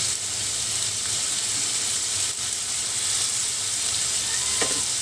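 Garlic and onion sizzling in hot oil in a pan for ramen, a steady, loud, continuous hiss with no talking.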